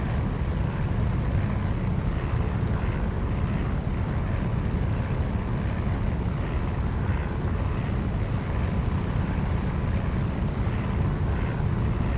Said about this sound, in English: Engine noise is overriding a little bit of it.